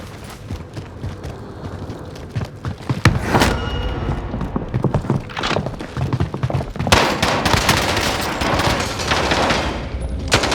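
Gunfire in the shooter WarZone from a C58 rifle, with dense, loud bursts of rapid shots and heavier clustered volleys, continuing for several seconds and layered over busy battlefield noise.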